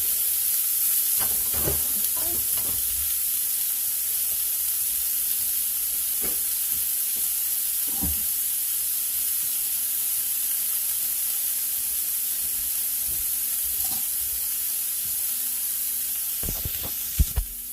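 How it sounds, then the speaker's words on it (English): Green vegetables and onions sauté in a pan with a steady, continuous sizzle throughout, while occasional stirring scrapes and clinks break through at intervals, one cluster louder near the end; no one speaks. "we'll let that sit and let that saute for a few minutes and let all those green vegetables and onions get"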